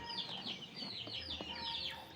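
Rhode Island Red chickens cluck and chatter close by in a coop, several soft, repeated calls overlapping against a quiet background.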